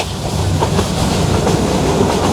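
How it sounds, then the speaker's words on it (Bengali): Interior sound of the Joyantika Express on the Dhaka to Sylhet line running at about sixty, a loud continuous rumble with rhythmic clickety-clack of wheels over rail joints and no talking. "আমাদের ট্রেনটি শায়স্তাগঞ্জ রেলওয়ে স্টেশনে দুই মিনিটের যাত্রাবিরতি শেষ করে ষাট গতি নিয়ে ছুটে চলেছে"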